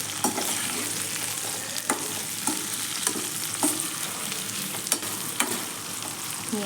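Tomatoes sizzle steadily in a hot pan while being lightly sautéed for vatha kuzhambu, with periodic scraping clicks of a spoon stirring through the frying.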